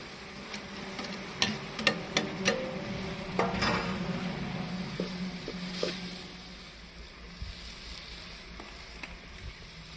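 Chopped tomatoes dropped into a pan of frying liver for kaleji feta, with soft sizzling, stirring and scattered clinks of a utensil against the pan, fading to a quieter fry.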